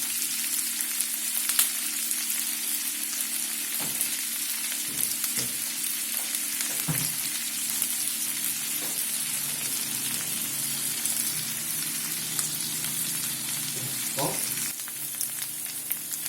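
Egg chilli fries in a pan over a constant close sizzle, broken by occasional clicks and knocks of a spatula stirring, with no voices throughout.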